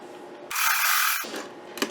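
A sewing machine stitches quilt fabric for a mosaic quilt block in a short mechanical burst of under a second. The burst starts suddenly, then trails off into quiet with a small click.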